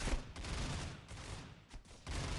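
Gunfire in a gunfight in the mobile shooter Critical Ops, a dense, continuous volley of rapid shots at fairly low volume, with no talk over it.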